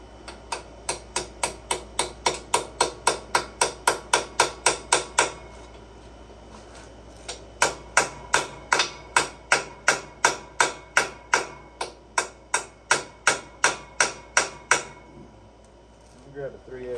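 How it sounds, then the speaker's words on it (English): A 3/8 ratchet clicks steadily while turning an engine bolt during head gasket work on a 2018 Hustler Raptor SD mower's Kawasaki FR691V, a rapid even run of ticks, a pause, then a second run. "got a 3/8 ratchet"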